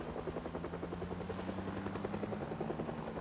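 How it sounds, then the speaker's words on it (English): Helicopter in a zombie survival video game flying overhead, a steady loud rotor thrum with rhythmic blade chopping that holds throughout, no voices. "the helicopter will bring many zomboids to your location"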